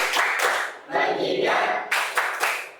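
A classroom group plays a clapping rhythm game, striking sharp, synchronized hand claps between bursts of voices chanting together, in a lively back-and-forth pattern.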